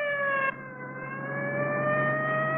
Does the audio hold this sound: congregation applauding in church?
no